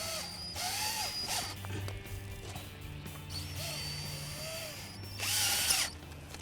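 A power drill drives screws into the header of a Bestop Supertop on a 2007-or-newer Jeep Wrangler JK Unlimited four-door, in several short, close whirring bursts with quieter gaps between them.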